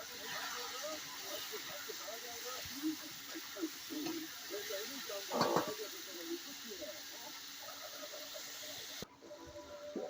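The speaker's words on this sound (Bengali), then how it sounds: "দেখো এবার এটা ভালো করে ভেজে নেব।" Chopped vegetables fry with salt in a pan alongside a fish head, giving a quiet, steady hiss and sizzle with scattered stirring scrapes, while a voice talks over it at moments and one brief louder clatter stands out.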